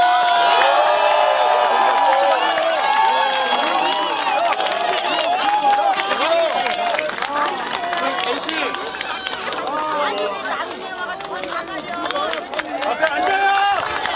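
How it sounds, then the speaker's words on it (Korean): A crowd at an outdoor political campaign rally in Incheon cheers, whoops and claps loudly and continuously, with shouting voices and a public-address voice mixed in throughout. "큰 박수로 맞이해 주시기 바랍니다."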